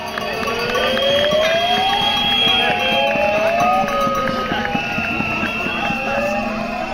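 A rally crowd gathered in front of the Festspielhaus in Bregenz applauds and cheers in a steady, dense wash of noise, with whistles or horns sliding in pitch over the top.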